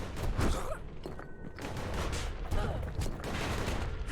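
Heavy cannon blasts from the Calamity cannon in the video game Bastion, a dense run of booming shots over continuous game noise, loud and close throughout.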